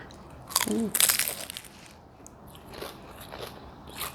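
A freshly fried, homemade crispy spring roll is bitten, giving a couple of loud, close crunching bursts followed by softer chewing crackles, with a voice speaking nearby.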